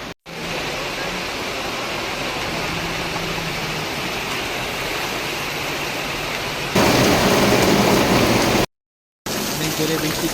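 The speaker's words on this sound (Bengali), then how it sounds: "অনেক জোরে বৃষ্টি চলেছে" Heavy rain pours steadily and loudly throughout, with low rumbling that fits thunder; the downpour swells even louder near the end, broken by a brief silent gap.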